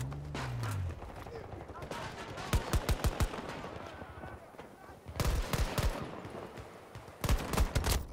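Gunfire in the video game Battlefield 2042: several sharp automatic bursts in separate clusters, punchy against a low background of game ambience.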